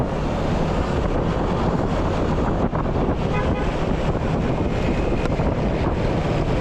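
Strong wind buffets the microphone on a mountain road, a loud, continuous roar of rushing air that carries on unbroken from start to finish with no talk.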